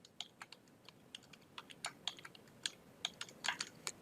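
Computer keyboard typed at a steady pace, producing quiet, close key clicks in irregular quick runs.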